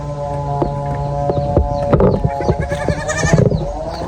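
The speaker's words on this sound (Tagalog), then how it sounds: "May kambing." Goat bleating repeatedly in an outdoor farm setting, with overlapping calls and some animal movement around, fairly close and loud.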